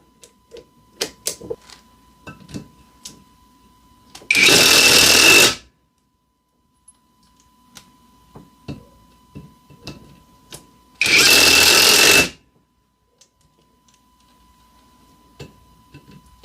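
CAT cordless drill driver driving Tapcon screws in two loud, steady bursts about a second long each, with light clicks and handling taps in the quiet gaps between.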